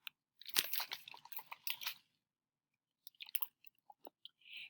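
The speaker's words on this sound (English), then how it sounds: "there's lots of clicking here" Irregular clicking and crunchy ticks, a dense burst of close, sharp clicks followed by sparse scattered ones after a short silence, with no voices.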